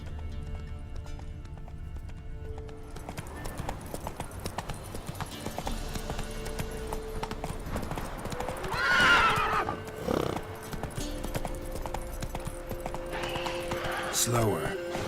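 Roach the horse from The Witcher 3: Wild Hunt, hooves clip-clopping in a steady gait with a neigh partway through, heard under a man's speech and game ambience.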